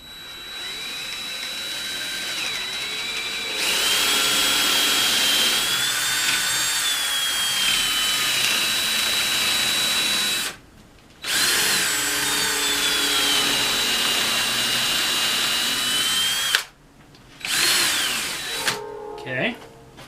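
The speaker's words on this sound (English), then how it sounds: "Make sure it's in the center of the two boards and nice and level" A power drill whines loudly into wood in several long bursts, the motor pitch shifting under load, with short pauses between runs.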